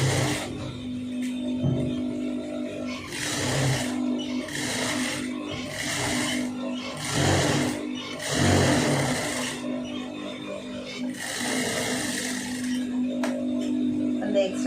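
A sewing machine stitching around a sleeve runs in repeated bursts of whirring mechanical hum separated by short pauses, close, with a low background drone and occasional faint handling.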